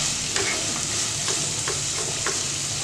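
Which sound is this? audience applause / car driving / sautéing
sautéing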